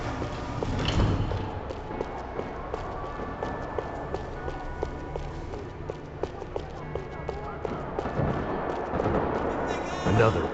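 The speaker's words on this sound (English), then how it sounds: "Another parking lot rattling with gunfire." Rapid bursts of gunfire crackle continuously amid rumbling explosions and a busy, loud background in a parking lot in the video game Max Payne 3, with a voice talking over it.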